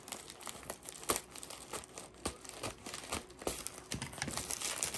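Plastic and cardboard packaging of a Beyblade toy (B-163 Brave Valtreyk with a string launcher) is cut and torn open with scissors, giving a close, continuous run of crinkling, crackling and tearing.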